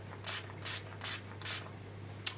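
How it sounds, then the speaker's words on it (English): Four short hissing spritzes of a makeup setting spray bottle in an even rhythm, close and fairly soft, followed by a brief click at the end. "I kind of hold it up here, spray."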